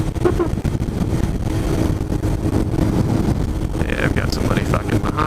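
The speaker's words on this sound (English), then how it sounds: "that wind noise, too, gets up there a little higher" Wind noise buffeting a rider's helmet microphone while riding a motorcycle, a steady loud roar mixed with engine rumble, carrying on throughout with a voice speaking over it near the end.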